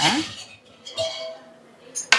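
Metal scraping and clinking of a spoon stirring meat for biryani in a pot, a few short strokes close by with a soft sizzle underneath.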